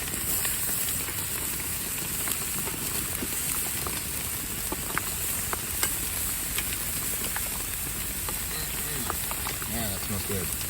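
Hamburger patties sizzle on an outdoor grill in the rain: a constant crackling hiss mixed with the patter of rain, scattered sharp pops, and a faint voice near the end.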